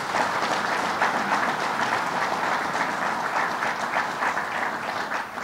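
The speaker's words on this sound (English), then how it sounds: "Let's give him a big round of applause." An audience at a State of the State proposal event applauds, a dense, steady wash of clapping that holds at an even level for several seconds with no speech over it.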